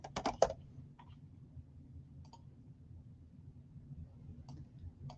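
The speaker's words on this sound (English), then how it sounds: "So let me type in Cindy." Someone types on a computer keyboard. A quick cluster of close, crisp key clicks comes first, then a few sparse, fainter taps follow over a quiet room hum, with no talking.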